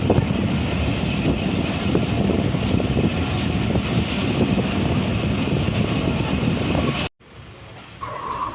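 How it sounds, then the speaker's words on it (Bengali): A train pulls into Panchbibi railway station in Bangladesh with a loud, close, continuous rumble and rattle of wheels and carriages that cuts off abruptly near the end, leaving quieter station ambience. "আমাদের ট্রেন প্রবেশ করলো পাঁচ বিবি রেলওয়ে স্টেশনে"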